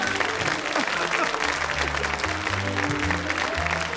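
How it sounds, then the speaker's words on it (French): A crowd applauds steadily and loudly throughout, with a dense wash of clapping and some voices mixed in underneath. "Écoutez, Prévost, personnellement, je vais vous applaudir une fois, on va le faire."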